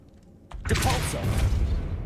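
Depulso spell cast in a Harry Potter video game, a sudden forceful whoosh and rumbling burst that swells quickly and keeps roaring for a moment, with a faint earlier tap before it.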